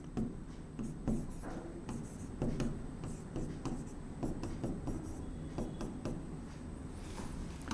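A pen moves across paper in quick, rhythmic scratching strokes as groups are written out by hand, heard faint and close with short pauses between strokes.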